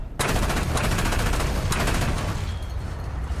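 SPAA anti-aircraft guns firing in War Thunder: loud, rapid bursts of automatic cannon fire, with sharp onsets near the start and again partway through, then a continuous rattling stream that slowly thins out.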